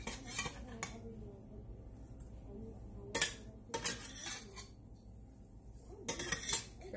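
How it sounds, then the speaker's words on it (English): A utensil clanks against a frying pan as French toast is lifted out, a few sharp metallic knocks and scrapes between quiet stretches, close and fairly soft. "it's time to get the French toast out of the pan"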